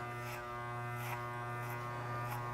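Electric hair clippers fitted with a number 3 guard trimming a child's hair, a steady close mains hum with harmonic buzz running continuously, brief brighter swishes recurring as the blades pass through hair.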